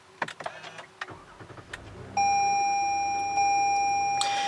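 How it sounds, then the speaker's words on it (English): Push-button start of a 2016 Toyota Highlander Platinum: a few soft cabin clicks and a chime, then the engine catches and settles into a smooth, steady idle hum with a sustained tone, close and inside the cabin. "push the button here to start up the engine"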